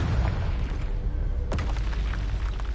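A Confringo fire spell blasts with a booming explosion at 1.5 seconds in Hogwarts Legacy, heard over a continuous rumbling game soundscape with no talk.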